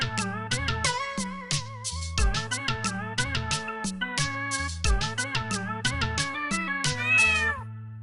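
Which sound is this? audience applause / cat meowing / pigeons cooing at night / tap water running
cat meowing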